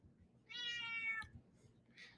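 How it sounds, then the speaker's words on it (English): A cat gives one drawn-out, fairly loud meow nearby, followed by a shorter, softer meow a moment later in a quiet room. "my cat has decided to join us here with his loud voice"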